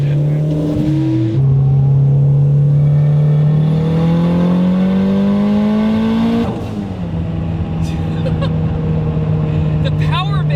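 A Toyota MR2 swapped to a 750 hp K-series engine accelerates hard, its loud engine note climbing steadily through one long gear before a shift drops it back and it pulls again, heard from inside the car with voices underneath.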